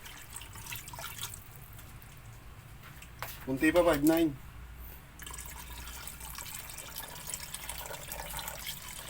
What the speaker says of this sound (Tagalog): lalagyan pa natin yan ng tubig